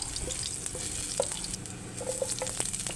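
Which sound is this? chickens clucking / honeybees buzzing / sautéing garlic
sautéing garlic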